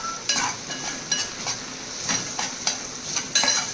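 Stuffing for stuffed brinjal masala being stirred with red spice masala, chili and turmeric, a series of close, scraping strokes of a spoon against the pan in an uneven rhythm over a faint sizzle.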